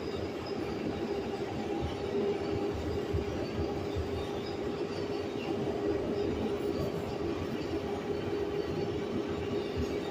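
An R142A 6 train on the New York subway rides between 149th Street and Brooklyn Bridge–City Hall, a steady loud rumble of wheels and car noise with faint squeal, continuous throughout and without talk.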